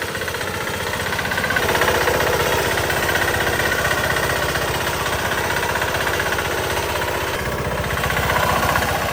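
A hydraulic-motor reaper mounted on a New Holland 4510 tractor runs at raised RPM, a loud, steady, rattling mechanical drone with rapid knocking pulses, close by and continuous.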